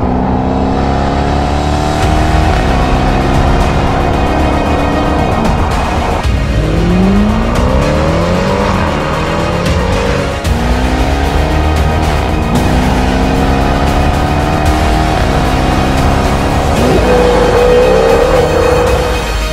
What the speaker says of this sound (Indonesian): Oke, sekarang kita test drive mobil ini.